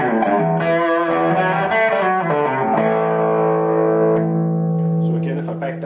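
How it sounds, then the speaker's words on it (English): Electric guitar played through a TC Electronic Dark Matter distortion pedal at lower gain, giving a mild overdrive tone; sustained chords and single notes ring out loud and close, with no talking over them. "You can also use the Dark Matter Distortion with some lower gain settings, and this actually works quite nice as almost an overdrive type pedal."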